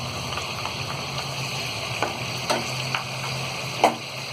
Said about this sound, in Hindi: और मटन को भी हम थोड़ा सा फ्राई करेंगे।